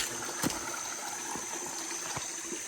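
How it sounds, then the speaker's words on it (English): Crystal Prong creek flows beside a hiking trail on the Ouachita Trail after recent rain, a steady rushing wash with a few soft splashes, close and with no voices. "Pretty nice creek."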